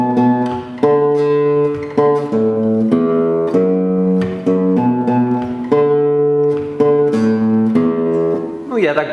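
A verse bass line from a song played on guitar, a steady run of plucked low notes changing pitch in a repeating pattern, close and loud with no talking.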